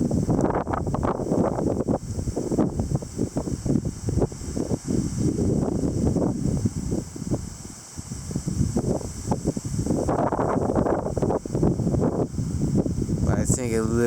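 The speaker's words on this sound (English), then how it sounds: "Definitely think these are the gusts I've been missing," Strong wind gusts buffet the microphone during a rainy September storm, a loud rushing roar that swells and eases in waves, briefly dropping midway before building again, with muffled talk mixed in.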